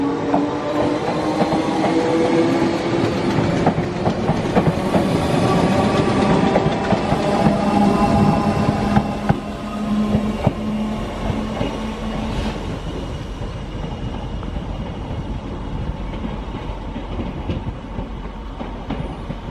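A train rumbles and clatters steadily nearby, wheels clicking over rail joints as it departs a station for Liverpool Central, the noise gradually easing over time.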